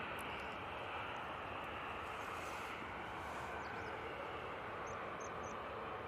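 Aircraft at Manchester Airport, a faint, distant steady engine roar forming a low continuous wash, with a few brief high chirps over it and no speech.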